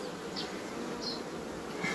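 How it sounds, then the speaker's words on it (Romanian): Honeybees buzz steadily around an open hive during a beekeeper's colony inspection, forming a continuous, moderately loud droning hum with a few individual bees passing closer. "Iată ce de albinuț."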